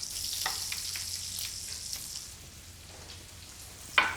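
Scallops sizzling in a hot frying pan make a steady, close hiss of frying that softens slightly partway through, and a short clatter of utensils comes at the end.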